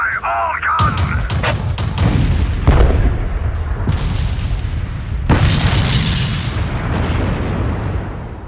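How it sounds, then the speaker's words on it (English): Explosion in the strategy video game Dawn of War incinerating orc looters: heavy booming blasts and crackling gunfire burst in repeated waves, loud and close, with rumbling tails between hits. "The resulting explosion incinerated the orc looters"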